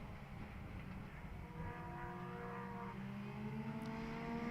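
A Mitjet race car on a circuit at Pärnu, its engine note rising and falling through sharp acceleration and braking, heard at a distance beneath a steady rumble.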